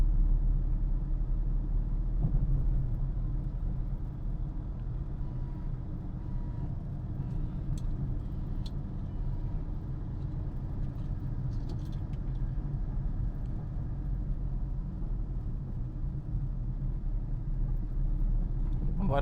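A car rolls along a Chennai city road with its engine shifting from second up to third gear, a steady low rumble with road noise continuing throughout, no voices over it.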